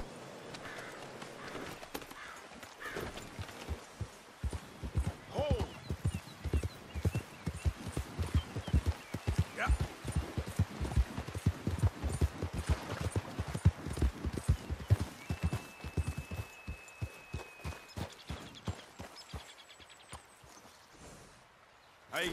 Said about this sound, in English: This horse riding is getting to me, y'all.